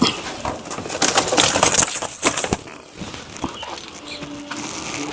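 A breeding pigeon shuffles and flutters close by amid rustling and handling noises, with faint soft coos and clicks, loud at first and settling quieter toward the end.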